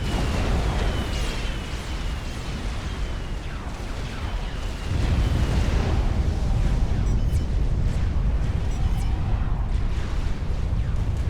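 Artillery shelling in the real-time strategy game Supreme Commander: Forged Alliance, with T3 and T4 artillery firing: a dense, continuous rumble of overlapping explosions and booms that grows louder midway, with no speech.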